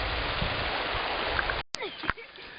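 A river stream near the Mar'yanchyn waterfalls rushes steadily at close range, a dense broadband flow that breaks off briefly and returns at a lower level with small splashes.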